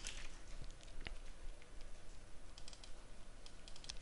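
A keyboard shortcut typed on a computer keyboard, a few faint, soft key clicks and taps spread over a quiet room background, no voices.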